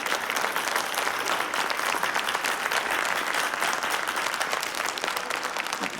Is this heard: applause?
yes